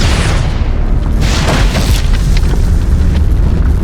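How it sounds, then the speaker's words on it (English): A loud, sustained explosion booms in the firefighting game Real Heroes Firefighter HD, a dense roaring blast with rumbling debris that fills the whole stretch. "Malibu's going up in one loud kaboom."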